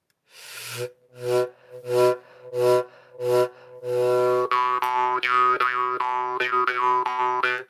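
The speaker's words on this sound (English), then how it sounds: "Most jaw harps stop making sound when you breathe in all the way." A jaw harp is played live. Five separate twanging notes with pauses between them lead into a continuous droning passage with shifting overtones, close and clear, with no voices.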